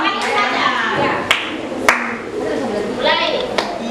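A group claps hands together in time during a 3-6-9 counting game in a classroom, with sharp claps punctuating loud, continuous chanting voices.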